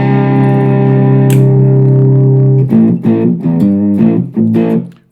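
A Harley Benton SC200 electric guitar plays through a delay effect, first a long sustained ringing chord and then a run of picked notes whose repeats echo and trail off, loud and alone with no talking.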